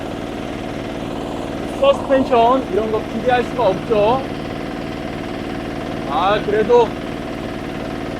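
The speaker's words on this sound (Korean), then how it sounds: "워낙 경운기라서 시끄럽고" A small single-cylinder walk-behind tiller engine, long left unused, chugs loudly and steadily while driven on a road, someone talking over it in short bursts.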